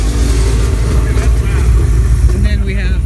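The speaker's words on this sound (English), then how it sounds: "Tim showing off his supercharged SS." A supercharged Chevy SS at a car meet runs with a loud, deep, rumbling idle and slight revving, heard up close while voices carry over the engine.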